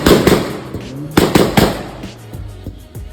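Sharp, rapid bangs and pops from a Stage 3 Skoda Octavia VRS (K04 turbo) exhaust on two-step launch control, irregular loud cracks over a low idling engine, close by.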